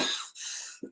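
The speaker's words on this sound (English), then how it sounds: "I have a chronic cough." A person's chronic cough: a sharp, breathy burst up close, then a short rough tail and a second brief cough at the end, alone without talk.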